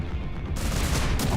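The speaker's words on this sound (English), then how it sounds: "Oh, so we got proximity explosion" Battleship guns in the naval combat game From the Depths set off proximity explosions, a dense rumbling barrage of booms and crackling blasts that jumps louder partway through and keeps going, with no talk.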